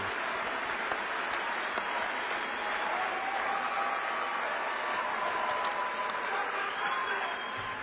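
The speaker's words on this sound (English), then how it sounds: "cheering for her" A large crowd at a Donald Trump Americafest event applauds and cheers for a woman, a steady, dense wash of clapping and voices lasting throughout without pause.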